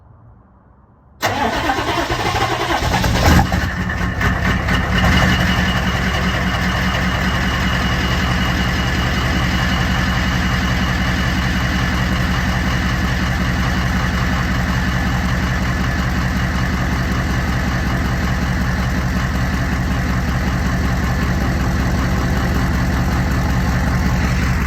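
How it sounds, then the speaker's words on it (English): A truck with straight pipe exhaust cold starts after sitting for over a week in cool weather, firing up quickly with a loud burst and then settling into a steady, deep, rumbling idle that runs on close by for the rest of the stretch. "here's a frickin' cold start"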